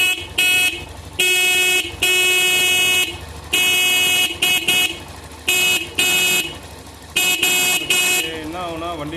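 A two-wheeler's electric horn sounds loud and close in repeated blasts of varying length, several times in a row, with a person talking under it between honks.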